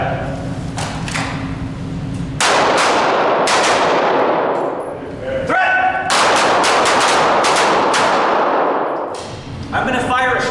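Rapid strings of pistol shots crack out in two long bursts during a close-quarters shooting drill, with sharp metallic rings between them. They are loud and close, with brief gaps between the strings.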